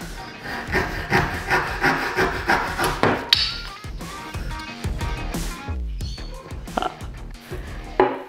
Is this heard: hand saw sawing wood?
yes